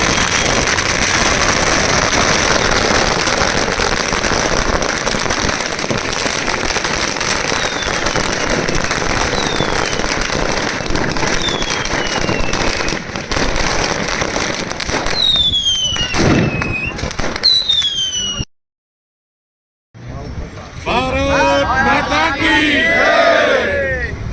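Firecrackers burst in rapid, dense crackling volleys with a cheering crowd and whistling rockets shooting up, then a brief silence before more crackling and shouts, at a political celebration in Ribada, Gujarat.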